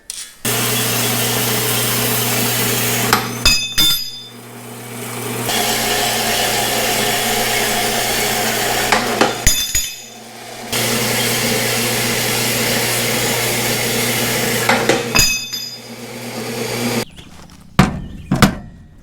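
A power saw cuts through 3/8-inch-thick, 4-inch-wide flat steel bar in three long passes, a steady whining grind with squealing bursts and short pauses between cuts as pieces are moved.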